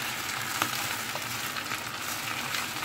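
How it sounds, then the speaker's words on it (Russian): Steady crackling sizzle of potatoes frying in hot oil, continuous and close, with a few sharper pops scattered through. "Вот маслечко, все там шкварчит,"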